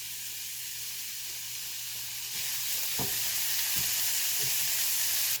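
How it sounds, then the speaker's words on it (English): Chopped onion hits melted butter in a pan with a steady hiss, and the sizzle grows brighter after a couple of seconds, punctuated by a few soft stirring knocks. "Then we're going to add our onion."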